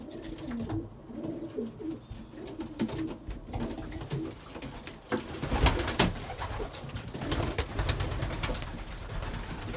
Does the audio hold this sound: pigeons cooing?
yes